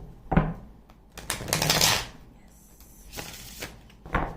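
Tarot cards being shuffled by hand, a few quick riffling bursts and soft papery flutters with short pauses between them, close and fairly quiet.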